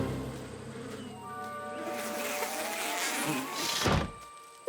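A swarm of cartoon bees in an animated My Little Pony show buzzes with a steady, droning hum that swells louder and closer midway, then fades.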